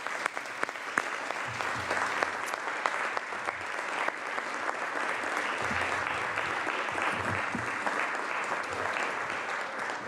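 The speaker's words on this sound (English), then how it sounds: "A warm round of applause on their way" A warm round of applause in a Senate chamber during a floor session, steady continuous clapping from a large group, fairly distant and even, with a few louder individual claps near the start.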